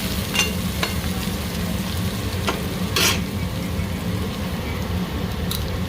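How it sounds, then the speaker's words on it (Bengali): Onions sizzle steadily in a hot pan as the base for a rohu fish curry, a dense continuous frying hiss with a few sharp clinks and stirring scrapes, close and fairly loud. "পেঁয়াজটা গলুক, একটু ভালো মতো ভাজা হোক।"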